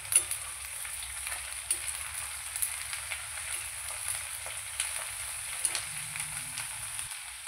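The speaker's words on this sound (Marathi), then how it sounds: "आता मी त्याच्यामध्ये ही बारीक चिरलेली भोपळा मिरची टाकते." Finely chopped capsicum frying in a pan, a soft steady sizzle with faint occasional clicks of a utensil, quiet and without talk.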